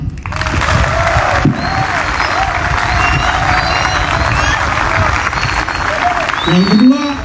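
Sustained, loud crowd applause at a closing ceremony for young non-commissioned officers as an instructor is honored. Clapping mixes with voices and a few shouts, swelling slightly near the end.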